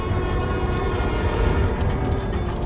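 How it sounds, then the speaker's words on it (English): A New York subway train in the video game Spider-Man: Miles Morales rumbles along the tracks, a loud continuous roar with a faint tonal hum, heard up close without speech. "Trusty New York subway."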